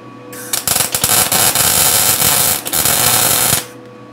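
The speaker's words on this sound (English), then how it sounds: "we'll get the welder on." A welder works on an old 1959 MotoMower Shark 5 motor mower, a loud steady crackling buzz with sputtering pops that starts abruptly and stops after about three seconds, close and alone.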